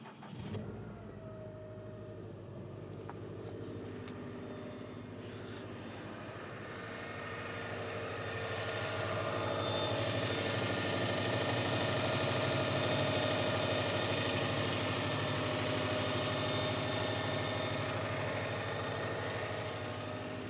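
A Subaru car engine cranks and fires up, then settles into a steady idle that swells slightly louder before holding an even hum.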